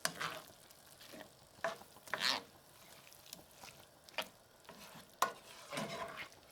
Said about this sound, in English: We want this wine to cook off, the alcohol to cook off.